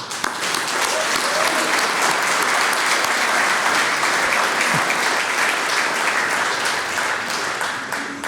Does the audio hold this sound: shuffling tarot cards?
no